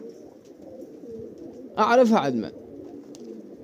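Pigeons coo softly in a low, continuous murmur, and someone speaks briefly over them in the middle.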